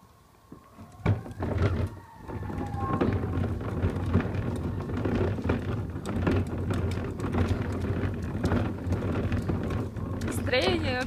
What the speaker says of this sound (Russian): а идет дождь